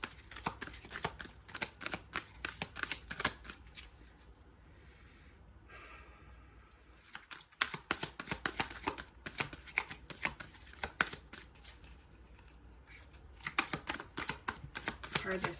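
Tarot cards being shuffled by hand, repeated quick riffling flurries up close, pausing briefly midway before resuming, with faint breathing in the background.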